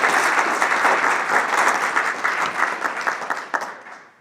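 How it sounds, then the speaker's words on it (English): Press conference audience applauding endowed scholarship donors, a dense wash of many clapping hands, loud and sustained, then thinning into scattered individual claps as it fades out. "Please join me in giving a round of applause as we celebrate all of our endowed scholarship"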